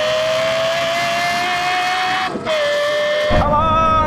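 A Lexus LFA and a Porsche Carrera GT accelerate hard in a half-mile drag race, rising high-pitched engine wail climbing through the revs, a brief dip for a gear change, then surging on, loud and close.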